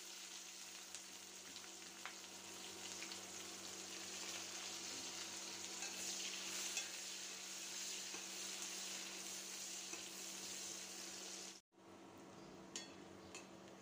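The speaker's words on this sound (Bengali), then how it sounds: "এখন ওই তেলে আমি পেঁয়াজটা ভেজে নিব" Sliced onions frying in oil with cinnamon, bay leaf and cardamom in a home kitchen, a soft steady sizzle with occasional stirring scrapes, briefly cut near the end.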